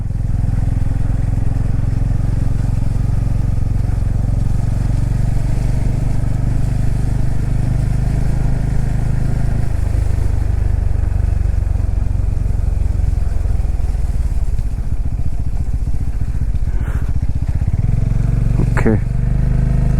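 A Bajaj Pulsar N250 motorcycle rides off-road through deep mud with its tyre slipping. The engine drones loudly and steadily, rising and falling as the rider works the throttle, with someone talking over it.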